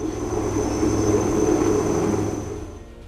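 An Indian Army rescue helicopter lifting off over Ganga floodwaters in Bihar, a steady broad engine and rotor roar that holds loud, then fades as it flies away.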